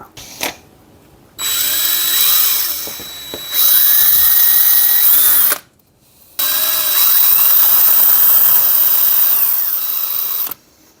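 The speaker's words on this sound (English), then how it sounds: "I might have to drill more of that" A power drill whirs loudly in two long bursts while modding a Game Gear handheld, pausing briefly between them, with its motor pitch rising and falling as it bites.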